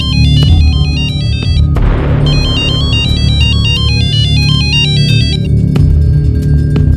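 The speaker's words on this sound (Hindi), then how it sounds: "रिंग जा रही है" A mobile phone rings with a stepped electronic ringtone melody that repeats in loud cycles over a steady, droning background score. No one speaks.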